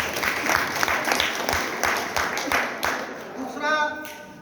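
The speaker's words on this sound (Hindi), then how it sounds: "एक बार ताली बजाकर उनका" An audience at a disability conference in Hardoi claps in a steady, fairly loud burst that continues for several seconds. A voice starts speaking over it near the end.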